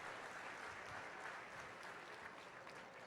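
Steady crowd applause for 4-H swine show exhibitors at a county fair, a dense, even patter of clapping that holds at a constant level throughout without any voices.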